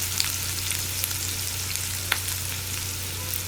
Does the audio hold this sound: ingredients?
yes